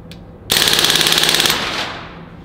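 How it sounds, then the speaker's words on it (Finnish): Full-auto burst fired at a private shooting range: a single loud rapid string of shots lasting about a second, close and sharp, followed by a fading echo. "Nyt koitetaan sarjatulla."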